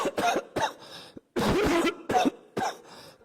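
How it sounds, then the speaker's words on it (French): Several coughs from one person at close range, sharp bursts in an irregular rhythm with one longer rough fit in the middle, heard during a tantric yoga session. "n'hésitez pas à tousser"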